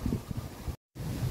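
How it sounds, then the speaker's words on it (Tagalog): Strong cold wind blowing at Jin Shin Lake in Taiwan, a loud continuous rush buffeting the microphone, broken by a brief dropout. "ngayon lang ay sobrang napakalamig na lakas ng hangin"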